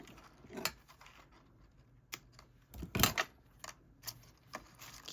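Scissors trimming excess stiff twine off a knotted hanging decoration, giving a few quiet, crisp snips spread over several seconds.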